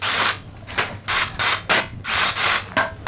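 Screws are driven into a wooden joint on a studio stand. Loud, close ratcheting bursts come in a quick, uneven series of about eight or nine pulses, with short gaps between them.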